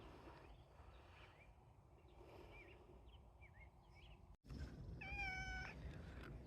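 A cat gives a clear meow near the end, with harmonic tones, over a steady outdoor garden background of light breeze.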